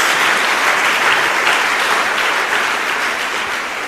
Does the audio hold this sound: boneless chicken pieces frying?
no